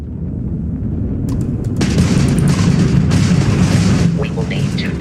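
An enemy Crimson Fleet ship firing weapons during a space battle in Starfield, heard as a steady low rumble with bursts of booming fire layered over it. A voice speaks over the combat.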